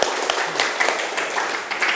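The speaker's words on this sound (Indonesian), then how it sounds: "Oke, berikan tepuk tangan." A classroom of students applauds together in a steady, dense patter of clapping that holds at a fairly loud, even level throughout.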